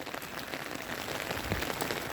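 Rain falls steadily at the Golden Pagoda in Arunachal Pradesh, a dense, even hiss of drops pattering on nearby surfaces with no talking.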